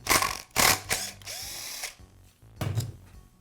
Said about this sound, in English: I'll use an impact driver and socket to remove the bolt.